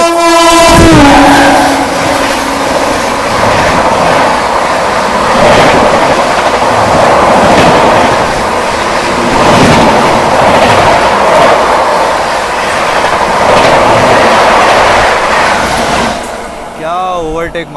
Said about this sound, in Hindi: आ चुकी है पीछे से आप लोगों की CR राजधानी अपनी महाराष्ट्र संपर्क क्रांति को ओवरटेक करने